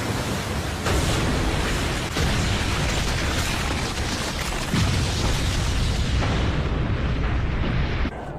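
A big explosion in a Naruto Shippuden anime fight, heard as a dense, sustained roaring blast with rumbling bursts throughout, loud and close, tailing off slightly near the end.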